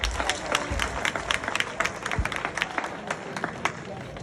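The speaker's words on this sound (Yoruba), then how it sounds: "ẹ bá mi pàtẹ́wọ́ fún dáadáa" A crowd applauds with steady overlapping claps and scattered sharp hand strikes, with voices mixed in.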